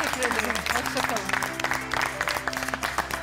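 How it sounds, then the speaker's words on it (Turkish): A television cooking competition's studio audience gives sustained applause, a dense wash of clapping hands with some crowd noise, while a voice speaks over it. "Sizi alkışlarla davet ettiğim stüdyodan alkışlarla uğurluyorum."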